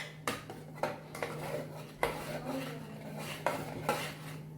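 A spoon repeatedly scrapes and clanks against a pot while moong dal with chopped tomato is stirred, giving a series of distinct metallic knocks and soft wet swishing at a moderate, uneven rhythm.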